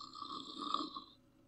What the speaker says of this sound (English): Who's snoring?